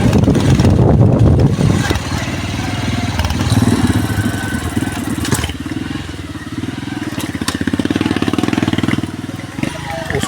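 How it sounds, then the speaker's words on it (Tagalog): A motorcycle engine rumbles steadily on a rough mountain road, loud and close, with a rhythmic pulsing chug under talk. "Usok-usok yung motor guys."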